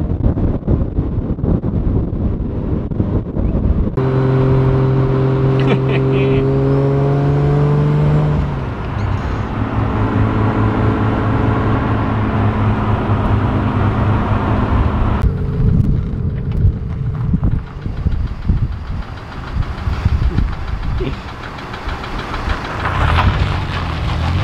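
A lowered Toyota Cressida JZX83 drives along with its engine droning throughout, shifting pitch as it moves through the gears, with road and wind noise loud inside the cabin.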